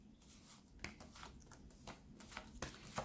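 Oracle cards being shuffled for a tarot reading: a faint, close, continuous papery riffling and rustling with small soft flicks, and no voice.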